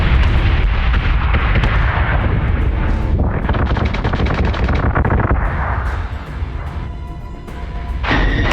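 Missile and weapons fire in the space combat video game Battlestar Galactica Deadlock: a loud, unbroken barrage of blasts, booms and rapid bursts that dips briefly and then surges again. No voices.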